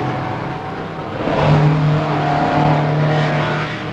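Racing cars at the Crystal Palace circuit, including a Lotus BRM, a Cooper Climax and a Lola, roar past fairly close with a sustained engine drone that swells midway and holds steady.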